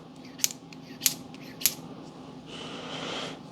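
Three sharp, bright knocks on hard resin-stabilized wood at an even pace, followed by a soft rubbing swish.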